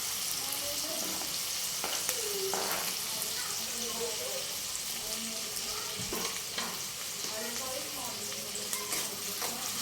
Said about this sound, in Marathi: कमीत कमी 5 ते 6 मिनिटासाठी आपण त्याला फ्राय करून घेणार आहोत